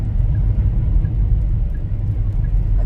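Car driving on a snowy road, heard from inside the cabin as a steady, loud low rumble of engine and tires with no talking.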